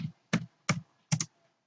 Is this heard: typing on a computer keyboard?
yes